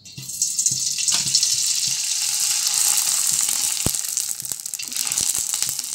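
Rava kurdai crisps fry in hot oil with a loud, continuous hissing sizzle, crackling and bubbling close by, with scattered sharp pops and a few light clinks.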